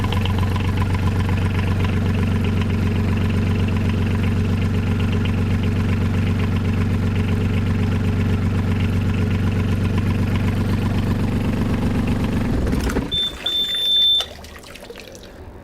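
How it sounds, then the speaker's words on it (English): A marine diesel boat engine idles steadily and loudly for several seconds, then cuts off abruptly, leaving a brief high beep and quiet. "this is what you should be seeing coming out of the side of your boat once you start your engine"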